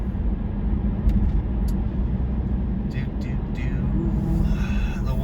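A car driving, a steady low road rumble and engine drone filling the background while someone talks over it, with a few faint higher noises toward the end.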